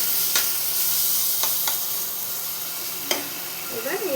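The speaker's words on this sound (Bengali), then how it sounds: "এবার আমি এর মধ্যে জল দিয়ে দেবো।" Spice masala fried in oil for prawn bhuna sizzles steadily in a pan as water goes in, with a few sharp clinks and a brief rising squeal near the end, no talk.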